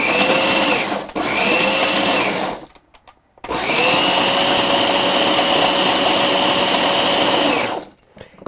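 A food processor whirs loudly as it chops and mixes hard polymer clay, running in long steady bursts with a brief stop in between and a rattling, grinding motor whine.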